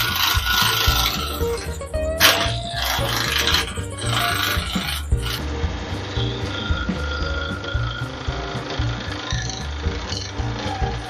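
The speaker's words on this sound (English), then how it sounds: "We're just going to use the spindle gouge to get the sharp corners off." A spindle gouge cuts a wooden seam ripper blank spinning on a lathe, knocking off the sharp corners; a steady, loud rasping scrape with rhythmic rubbing continues throughout, harshest in the first five seconds and then settling into a smoother hiss.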